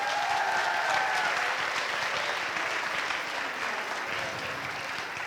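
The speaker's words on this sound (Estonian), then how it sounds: "Teeme aplausi neile juba." Sustained audience applause in a school gymnasium show, a dense, steady wash of many hands clapping at even loudness throughout, with no voices standing out.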